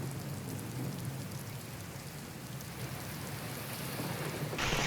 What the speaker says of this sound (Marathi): भिवंडी शहर आणि ग्रामीण भागात रात्रीपासून मुसळधार पाऊस सुरू आहे